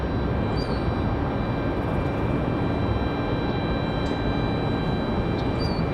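An American Airlines jet departs Raleigh-Durham airport with a loud, steady, broadband engine roar that fills the whole stretch, plus a faint high whine and occasional chirps, with no talking.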